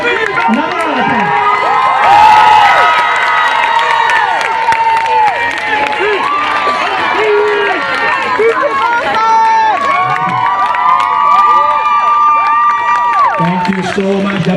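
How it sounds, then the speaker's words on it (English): A large crowd at a Labour Day rally applauds and cheers for performers, with sustained clapping, whoops and shouts layered together, loud and continuous, with voices calling out throughout. "let's give them another round of applause"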